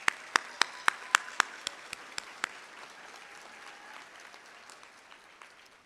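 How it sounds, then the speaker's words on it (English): A handful of sharp, separate claps ring out at a university commencement ceremony, spaced at a quick rhythm, then fade into a quiet murmur of the hall. "Audience, please join me in giving them a well-deserved round of applause."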